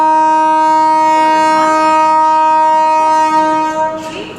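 The Patna Duronto Express sounds a long, loud, steady horn blast while departing Shalimar station, a sustained chord holding for about four seconds before tailing off into rail noise, close and with no talk.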